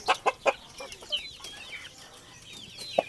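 Young gamefowl stag, part labuyo breed, clucking in a few sharp bursts at the start and once more near the end, with faint chirping birds in the background and no talk.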